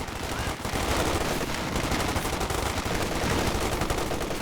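Dense, continuous machine gun fire from a Company of Heroes 2 battle rattles on without pause at steady loudness, layered bursts blending into one thick wall of gunfire.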